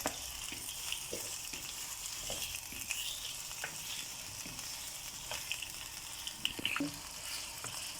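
Chicken for karahi sizzles and crackles steadily in a hot pan, with occasional scraping stirs and small pops, fairly quiet and without voices.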